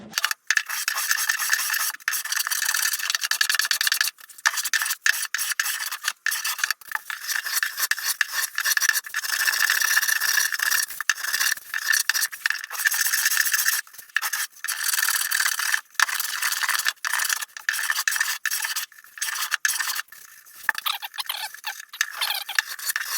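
A hand scraper works along wooden guitar binding in long, continuous rasping strokes with brief pauses between passes, a close, dry scraping that goes on for over twenty seconds without speech.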